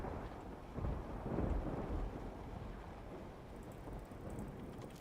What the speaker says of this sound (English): Oh, and of course it has to start raining.